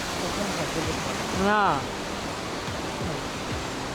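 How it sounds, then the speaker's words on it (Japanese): Steady broadband rush of a waterfall at the Shiwagara waterfall in a dim, shaded spot fills the whole stretch, with a brief voice rising over it midway. "あんな薄暗い中に滝が。"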